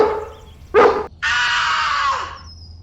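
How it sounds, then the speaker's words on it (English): A cartoon dog in a gloomy, rain-soaked town gives two loud, close barks or yelps, a short sharp one followed by a longer drawn-out cry that trails off, with no talking over it. "In Badland, a dog's bite is the worst than its bark."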